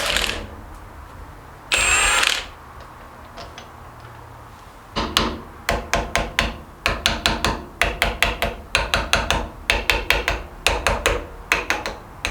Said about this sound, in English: let's razz those off, razz the head bolts off, and get the head off